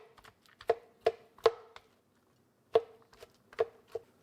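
Peaches and other produce for peach butter and salsa are chopped coarsely with a knife on a board: six or so sharp, close knocks come at uneven intervals, with quiet gaps between them and no talk.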